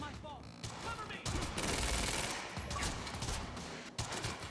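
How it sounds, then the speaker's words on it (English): Gunfire in the video game Quantum Break rattles in heavy, overlapping bursts of rapid shots, loud and close, with brief voices heard at the start. "You heard the gunfire."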